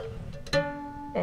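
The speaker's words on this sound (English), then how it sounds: "that's the sound of the string on the opposite side of your fingering." On a guitar played with hammer-ons, the string on the opposite side of the fretting hand sounds: a soft tap sets off a quiet ringing tone that sustains, and another light tap comes near the end.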